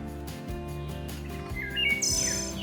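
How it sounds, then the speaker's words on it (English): Bird song in the field: clear high chirps and tweets come through over a steady background hum, with a louder burst of trilling notes near the end. "I just posted a video of this bird singing"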